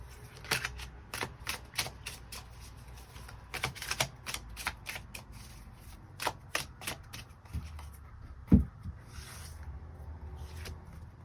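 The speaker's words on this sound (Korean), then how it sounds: "추가 카드 뽑아보도록 하겠습니다" Tarot cards being shuffled and tapped in a quiet room, a steady run of crisp riffles and soft slaps with one louder knock near the end, no voices.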